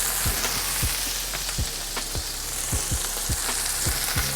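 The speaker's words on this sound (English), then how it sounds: "In goes a little lemon juice." Lemon juice hits a hot pan while a creamy lemon chicken pasta is cooked, and a steady, close frying sizzle carries through, marked by a series of sharp crackles and pops at irregular intervals.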